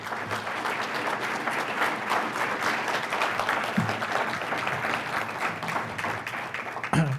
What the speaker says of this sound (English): why don't we give our panel a round of applause